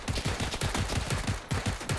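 Automatic gunfire in PlayerUnknown's Battlegrounds: a rapid, steady run of shots at about eight per second, loud and close, with a brief gap near the midpoint before the burst resumes.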